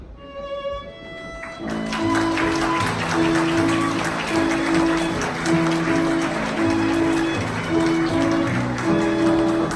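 Steady, sustained applause from a wedding crowd filling the hall, with a melody playing underneath throughout.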